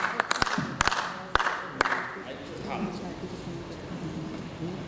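Brief scattered clapping from an audience at an annual day function in Jabalpur, a few sharp claps in the first two seconds fading into murmur and background chatter.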